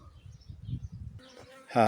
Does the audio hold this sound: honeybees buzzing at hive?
yes